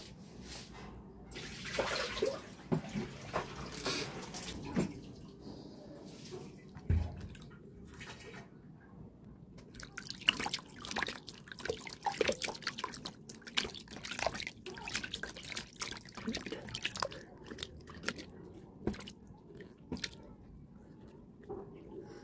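Water sloshing and dripping as a basin is emptied and refilled during a cocoa face mask session, with irregular splashes and trickles at close range, fairly quiet throughout with no talk.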